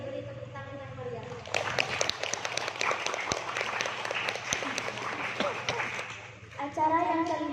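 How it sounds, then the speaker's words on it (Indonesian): A school audience at an Isra Mi'raj event at a pesantren bursts into sustained applause, dense clapping filling the hall for several seconds, with voices and someone speaking before and after. "Beri tepuk tangan yang meriah."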